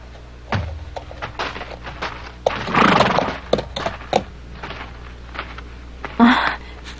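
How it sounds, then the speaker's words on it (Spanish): Horses whinny and neigh close by on a trail near a camp, with hoof thuds and clip-clop steps scattered among a few loud bursts over a steady background. "Dejemos los caballos aquí."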